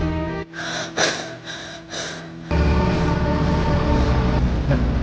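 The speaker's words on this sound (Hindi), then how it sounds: "सिर्फ सांसों की आवाज, जैसे कोई रमा के फोन के बिल्कुल पास झुककर सांस ले रहा हो" Heavy, close breathing pressed right up to a phone, used as a horror-story effect: a few distinct breaths and gasps followed by a continuous rushing exhale.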